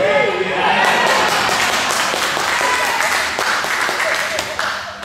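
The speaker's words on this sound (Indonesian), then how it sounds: "Saya bingung ini, Anda tepuk tangan untuk apa?" A church congregation applauds during a sermon, loud, full clapping from a large crowd that holds steady for the whole stretch and eases slightly near the end.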